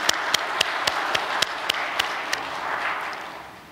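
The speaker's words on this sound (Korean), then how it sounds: "기적의 주인공들을 위해서 서로 크게 박수 한번 보내주시면 고맙습니다." An audience at a church celebration gathering applauds: a steady, crowded wash of clapping with sharp, evenly spaced claps ringing out above it, fading gradually toward the end.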